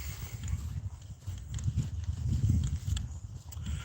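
Ponies walking on a rural path amid cows, their hooves clip-clopping in a steady, uneven rhythm at moderate distance for about four seconds, with faint outdoor background and no speech.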